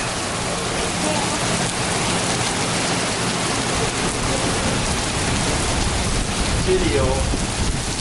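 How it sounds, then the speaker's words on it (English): Heavy rain with hail pours down steadily during an afternoon thunderstorm on the Trestle Trail, a dense loud hiss of drops on surfaces with faint distant rumbling and a brief voice near the end. "It's flowing in. Oh. It looks like hail."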